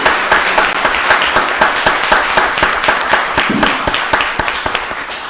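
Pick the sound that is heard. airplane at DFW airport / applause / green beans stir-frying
applause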